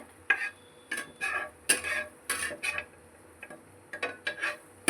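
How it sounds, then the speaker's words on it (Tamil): Gram flour is stirred and fried in a pan in short, distinct scraping strokes that come in uneven bursts with brief pauses between them. The sound is close and clear over a faint sizzle, with no voices. "கடலை மாவு போட்டு நல்லா ஃப்ரை பண்ணிடுங்க"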